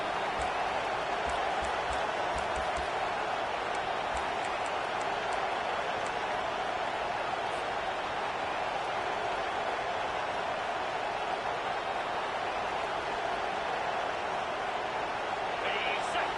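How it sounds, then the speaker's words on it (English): A stadium crowd at a USC vs Auburn college football game roars steadily throughout, a dense continuous cheering wash with a play-by-play voice talking over it. "this crowd is turning it up a notch"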